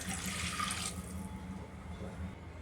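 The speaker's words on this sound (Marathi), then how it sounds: "मी इथे साधारण दोन ग्लास पाणी ॲड करते" About two glasses of water are poured into a pot of rice for home-style dal rice, a brief faucet-like splash at the start that fades into a quiet background hum.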